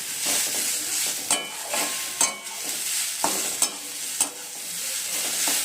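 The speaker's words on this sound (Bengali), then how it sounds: "এখানে বেগুন ভাজা হচ্ছে" Brinjal slices frying in a pan give a steady close sizzle, broken every second or so by sharper spatula stirs and clinks, with no voices.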